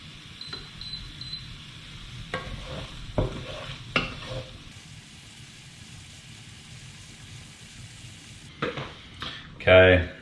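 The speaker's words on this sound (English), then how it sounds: "And let's give that a bit of a stir around as well." Crab linguine sauce frying in a pan and being stirred, a steady low sizzle with a few scraping stirs and clinks of a utensil against the pan, louder clatter near the end.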